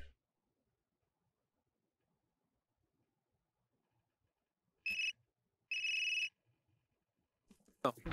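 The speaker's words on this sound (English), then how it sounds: "Someone's calling Schrader." A phone ringing in the Unheard video game: after a long quiet stretch, two bright electronic ring bursts sound, the second longer, followed by a brief noise at the end.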